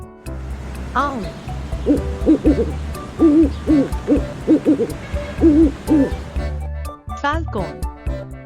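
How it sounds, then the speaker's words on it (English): An owl hoots repeatedly in soft, rhythmic paired calls, close and steady, with a faint background drone and a brief rising call near the end. "Owl."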